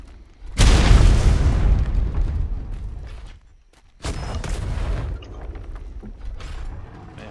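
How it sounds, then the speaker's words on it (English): Mortar rounds from the video game Atlas blast nearby in two heavy explosions, each a loud boom that rolls and decays over a few seconds, with a short quieter gap between them. "being this close to the mortar rounds is kind of sketchy"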